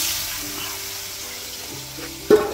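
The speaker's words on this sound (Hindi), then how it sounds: "इसको तेल में फ्राई कर देता हूँ।" Food being fried in oil in a home kitchen for soya chilli, a soft steady sizzle at moderate level with faint clinks, ending in a sharp brief clatter.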